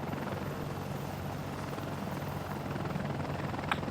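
Helicopter flying forward in the video game Ace Combat: Assault Horizon, a steady, dense rotor drone that holds evenly throughout with no breaks.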